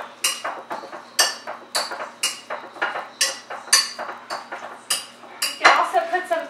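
Meatball mixture with egg and salt is worked by hand with a utensil in a bowl, giving about a dozen rhythmic, close clinks and scrapes in steady strokes, with no talking.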